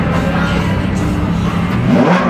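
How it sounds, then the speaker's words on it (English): A car engine revs hard and close at an auto auction event, a loud sustained roar climbing in pitch toward the end. "can you rev it up, Christian?"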